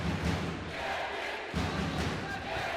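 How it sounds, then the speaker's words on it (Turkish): Arena crowd chanting for kickboxer Cemil Yıldırım during his fight against Ahad Ghorbani, a loud, continuous roar of voices that surges in two rhythmic swells with dull thuds underneath. "Cemil Yıldırım tezahüratları"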